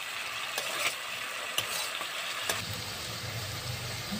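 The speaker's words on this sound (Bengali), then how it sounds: "এগুলো একটু ভাজা ভাজা করে নিই, তারপরে শাকটা দিয়ে দেবো।" Potatoes frying in a pan as a dish of fenugreek greens with potato and aubergine is cooked, giving a steady broadband sizzle with a few sharp stirring clicks and a low rumble building toward the end.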